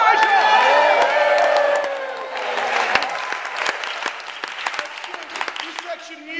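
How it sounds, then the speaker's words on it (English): A theater audience at an acting troupe's show cheers and applauds: dense clapping and whoops swell after an opening voice, then stay loud and steady with scattered sharp claps to the end. "When you see Elijah, I need you to cheer for our hero, Elijah"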